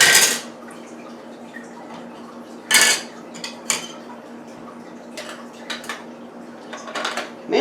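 A plastic mandoline slicer being handled and adjusted for cutting orange slices, with sharp clicks, clacks and rattles of parts and blade inserts in separate bursts over a low steady hum, no talking.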